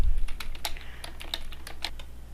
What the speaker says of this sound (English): and then you type whatever you want in here